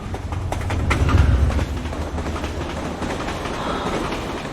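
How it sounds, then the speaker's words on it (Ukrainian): The Kyiv–Odesa passenger train pulls in to the first track at a station, a heavy rumble with rhythmic clickety-clack of wheels swelling loud, then settling into a steadier rolling noise. "потяг Київ Одеса."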